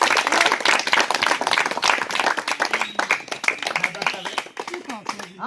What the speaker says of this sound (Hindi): 3 बोल दे ताली बस तनी सब लोग बजा